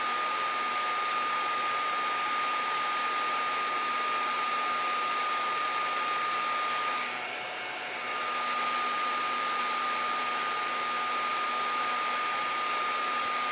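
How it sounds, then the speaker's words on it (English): A craft heat tool blows steadily at its lowest setting to dry a painted background, a continuous loud whooshing hum with a brief dip in airflow partway through. "If I keep my heater on the lowest pressure, I can stand it for a few minutes"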